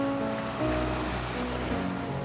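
Ocean surf at a beach near Miami, Fort Lauderdale and Hollywood, Florida, rolls as a steady, fairly faint wash of waves with wind, with no voices present.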